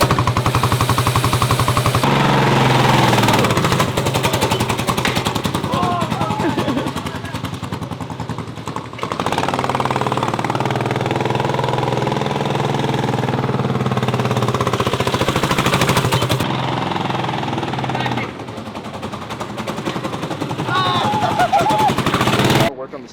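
A racing go-kart engine coughs into life after the clutch is popped, giving loud, rapid popping bursts that rise and fall across the clip, with people talking over it.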